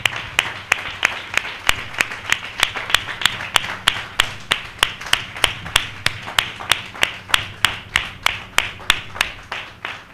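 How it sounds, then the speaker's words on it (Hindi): An audience at a Hindi Christian message program claps in unison, a sharp, evenly spaced rhythmic beat of roughly three claps per second that continues steadily throughout, close and loud. "हम जोरदार तालियों से उनका स्वागत करें"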